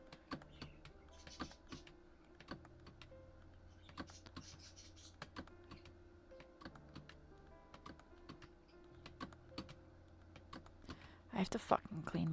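Rapid clicking of keys on a computer keyboard in bursts of fast taps with short pauses, close and fairly quiet, ending with a louder flurry of clatter.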